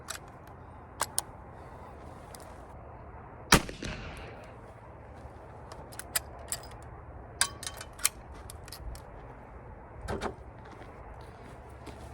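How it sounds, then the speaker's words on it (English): A single sharp rifle shot from a tube-magazine gun at an outdoor accuracy test, loud and close, with a long echo. Fainter clicks and knocks are scattered before and after it. "So I'm going to shoot this one."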